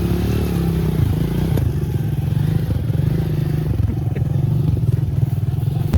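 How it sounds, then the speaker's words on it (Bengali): A motorcycle rides through deep water, its engine chugging in a steady, close throb while splashes, clatters and scraping thuds break in at intervals. "কি ভয়ঙ্কর পানির মধ্যে দিয়ে আমাদের মোটরসাইকেল চালক গাড়িটি পার করলেন"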